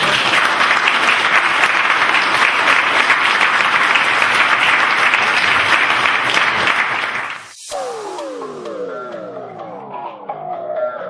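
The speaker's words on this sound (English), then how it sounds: "Can we have a clap?" Loud, sustained applause from a live audience at a local radio show event fills about seven and a half seconds, then cuts off abruptly and gives way to a descending musical jingle.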